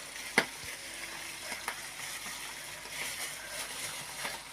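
Mushrooms frying in local butter give off a soft, steady sizzle in a pan, with a sharp tap of a utensil near the start and faint stirring clicks afterward.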